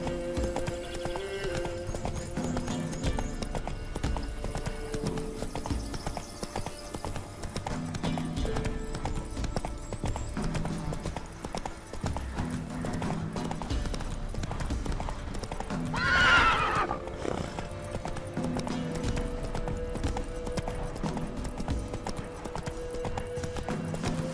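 Horse hooves clip-clop in a steady galloping rhythm in The Witcher 3, with a brief whinny partway through, heard alongside game music and ambient sound.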